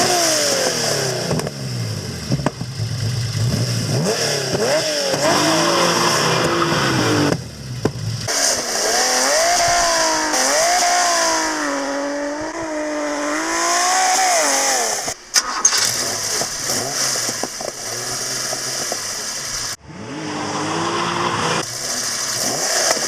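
A Tamiya Porsche 911 RSR TT02 RC car with a newly installed gyro drives outdoors, its electric motor whining and rising and falling in pitch through repeated accelerations, loud and continuous over background noise.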